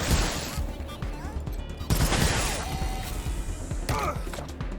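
Rapid video game gunfire crackles in dense bursts through a busy battle, with sharp shots layered close together and loud throughout.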